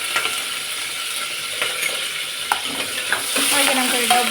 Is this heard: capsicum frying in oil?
yes